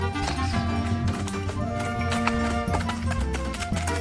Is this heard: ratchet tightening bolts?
no